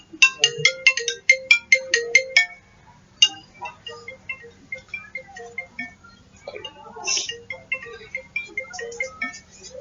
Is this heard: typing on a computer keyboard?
no